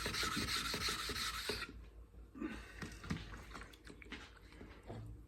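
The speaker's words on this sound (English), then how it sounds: "Take our flattening stone. Flip it around because we have different pressures at different angles." A steel chisel is rubbed back and forth on a flattening stone, giving a steady rasping scrape at close range that stops abruptly, followed by quieter intermittent scraping and handling noises.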